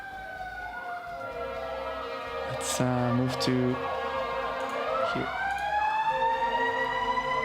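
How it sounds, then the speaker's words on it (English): Emergency sirens wail outside, their rising and falling tones sweeping steadily for several seconds at moderate distance, with brief voice under them. "sorry if you can hear the sirens"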